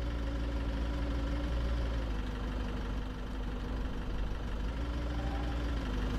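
A truck engine idles in the game Contraband Police, a steady low, even rumble held at a constant level with no speech.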